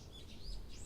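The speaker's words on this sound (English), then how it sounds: "Outside the window I could hear morning bird song that sounded totally different from what I heard on weekdays." Morning birdsong outside a window in the video game Higurashi When They Cry, soft chirps and tweets repeating over a faint background hush, quiet and somewhat distant.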